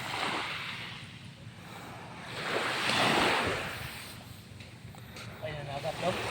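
Sea waves surge and break in a broad swelling wash of surf, rising to a peak midway then easing, with wind buffeting the microphone and a voice speaking faintly near the end.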